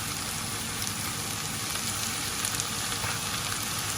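Mushrooms with their juice, onion and carrots sizzle steadily in a pan for beef in red wine, a dense, even crackle close up with no voices.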